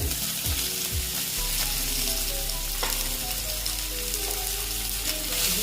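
Eggplant pieces go into a hot pan already frying potatoes and pumpkin for a bitter gourd chechki; a loud, even sizzle follows a few early stirring scrapes and holds steady, with no talking.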